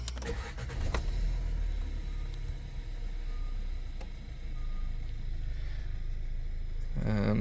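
A 2016 Volkswagen Jetta GT 1.4 TSI engine starts with a short crank at the beginning, then settles into a steady, low idle hum heard from inside the car, with a brief click near the end.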